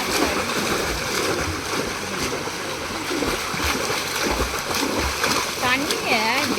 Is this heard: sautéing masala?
no